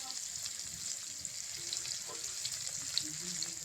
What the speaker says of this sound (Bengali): ওটাও ভাজা হতে থাক।